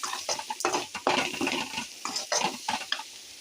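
Chili powder and turmeric sauté in a pan on a low flame for paruppu urundai kulambu, with irregular scraping stirs of a spoon against the pan over a soft sizzle, close and fairly quiet.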